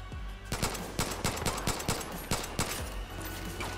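Rapid bursts of gunfire from Far Cry New Dawn, sharp shots cracking in a fast irregular rhythm over a steady low game rumble, loud and close throughout.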